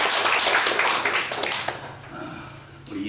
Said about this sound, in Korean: 이렇게 마스크라도 예배 쓸 수 있도록 인도하신 하나님께 우리 한번 영광의 박수 올리겠습니다